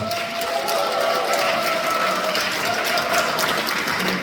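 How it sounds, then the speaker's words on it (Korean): An audience at a Democratic Party political lecture in Cheongwon-gu, Korea applauds, a steady, even wash of clapping that fills the room without letup. "박수 한번 다시 부탁드리겠습니다"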